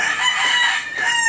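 A rooster crows loudly and close by, a long strained cock-a-doodle-doo with a brief dip partway through.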